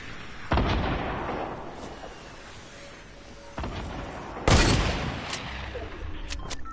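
Grenade launcher explosions in a PS4 video game, three heavy blasts with long rumbling tails, the last the loudest, spaced over several seconds with no talk over them.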